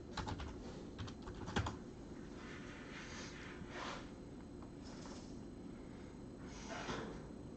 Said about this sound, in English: I'm typing to Morgan now.